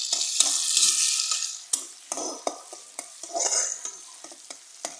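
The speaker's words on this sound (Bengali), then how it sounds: "এর জন্য কড়াইটা পেঁয়াজটা একটু ভাজা ভাজা করে নিতেছি।" Onions frying in a wok (kadai) hiss steadily while a spatula scrapes and knocks against the pan in an irregular stirring rhythm, close and clear.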